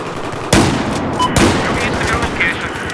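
Shotgun fire in Battlefield 4 gameplay on the Operation Locker map: two loud, sharp blasts about a second apart over dense continuous battle noise.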